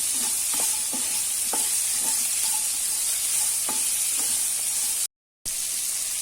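Bitter gourd sautéing on high heat, a steady close hissing sizzle broken by regular clinks and scrapes of a stirring spoon, with no talk.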